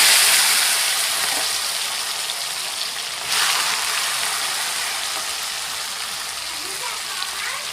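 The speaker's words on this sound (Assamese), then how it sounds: "তেলখিনি গৰম হ'লত মই এতিয়া গেছটো অকণমান কমাই লৈছোঁ, নহ'বা ভাজিখিনি আকৌ একদম উফৰি আহিব নেকি গাত" Ivy gourd (kunduli) sizzles in hot oil over a gas flame that has just been turned down, a steady close hiss of frying with a brief louder burst partway through.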